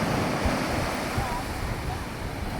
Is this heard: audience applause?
no